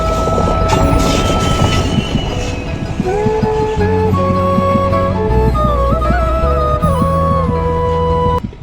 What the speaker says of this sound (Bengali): আর ওই দেখো একটা রেল আইতেছে, যেটা ধর্মনগর থেকে আইতেছে